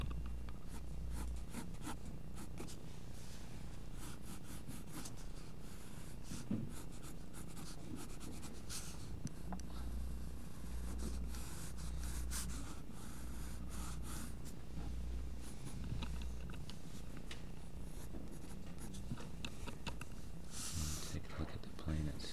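A pencil shades a sketch on paper with soft, continuous scratchy strokes close by, running steadily under a low background hum and occasional louder scrapes, with no talking.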